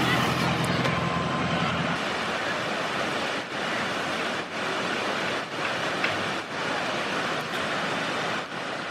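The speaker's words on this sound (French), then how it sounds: "Mais il y a une belle rivière ici." A mountain river in Nepal, its banks littered with plastic, rushes past in a loud, steady broadband roar of flowing water, close and continuous with faint gusts of wind.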